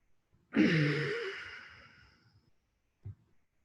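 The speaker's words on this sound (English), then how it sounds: "Take a deep breath." A single deep breath, a long audible inhale-exhale sigh, close and fairly soft, fading out over about two seconds, followed by a brief faint breath sound after a pause.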